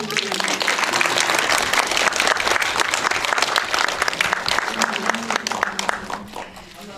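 Cinema audience at a post-screening Q&A breaks into applause for an actress's upcoming birthday: dense, sustained clapping from a full room, loud and steady for several seconds before thinning toward the end.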